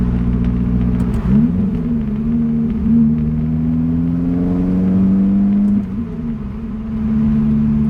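A Lotus sports car engine hums steadily at low revs, with two sharp throttle blips for rev-matched downshifts. Each blip makes the pitch jump briefly before the engine settles back into a smooth drone. The engine sounds close and clear, with no voices.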